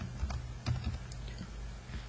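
Soft keyboard typing with scattered light key clicks over a low background hum, no voices.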